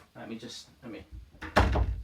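An indoor door closes with a loud thump near the end, after a stretch of people talking.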